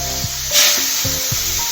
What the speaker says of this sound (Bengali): এবার তেলের মধ্যে আমি ভেটকি মাছগুলো এক করে দিয়ে দেবো